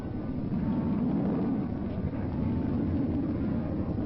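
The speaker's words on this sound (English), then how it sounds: "This is not a jet aircraft landing. It is rocket power, a flying laboratory built for supersonic flight." The Bell X-2 rocket-powered supersonic research aircraft lands, heard as a continuous rushing roar with wind-like buffeting, muffled and band-limited like an old film soundtrack, without speech.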